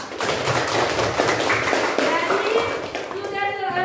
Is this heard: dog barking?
no